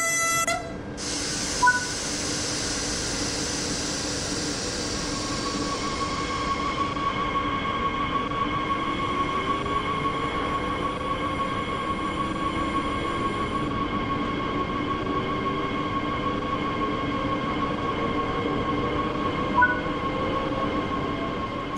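A BR 442 electric train in Train Sim World 3 pulling away and running steadily, with a constant rolling drone and rising motor whine, a short horn-like tone near the start and end, and no talking.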